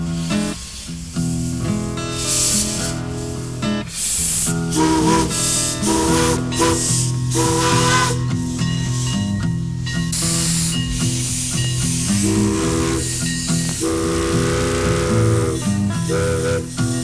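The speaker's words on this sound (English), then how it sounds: "aboard one of a dying breed, an actual steam locomotive" Steam locomotive of the Mount Rainier Scenic Railroad on its wilderness excursion, loud steam hissing and spraying throughout, with its whistle sounding repeatedly in long, wavering blasts.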